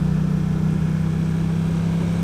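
Motorcycle engine held at a steady low drone while slowly accelerating out of a corner, a close, loud, even hum with little change in pitch.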